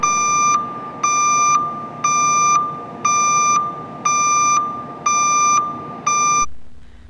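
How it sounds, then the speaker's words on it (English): Seven evenly spaced electronic beeps from the battery discharge indicator on an MSP lift, each a bright tone lasting about half a second and repeating steadily over a low background hum before stopping. "the bars flash and an audible beeping system begins"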